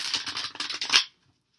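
Tarot cards being shuffled by hand, a quick run of crisp riffling flicks for about a second, close and fairly loud, then silence.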